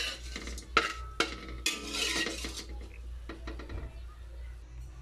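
A metal utensil scoops fried anchovies out of a pan, giving several sharp clinks and scrapes against the pan and a softer sizzle between them, close by, with talk in the background.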